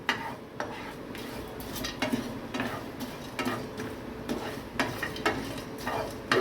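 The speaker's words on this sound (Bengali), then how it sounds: "এটাকে কিন্তু এইভাবে নাড়তে হবে কন্টিনিউয়াসলি, রেখে দিলে হবে না, এইভাবে নাড়তে হবে।" Handi mutton masala being stirred continuously in a pot, a steady run of scraping, clinking strokes with a soft sizzle underneath, close and moderately loud throughout.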